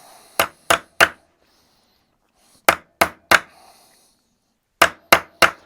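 An old Fuller chisel struck against wood in three bursts of three sharp, evenly spaced blows, each a crisp, close knock with brief pauses of quiet between the groups.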